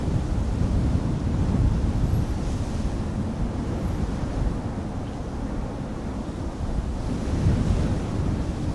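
Steady, loud wind at Amsterdam Schiphol Airport on a windy August day, a continuous low roar and rumble buffeting the microphone, swelling slightly near the start and end, with no voices.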